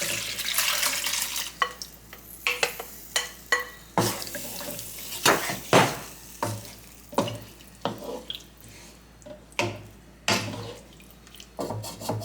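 Water poured into a pot of melon jam on the stove, a series of short splashing and trickling bursts with faint clinks, fairly close and with no talk.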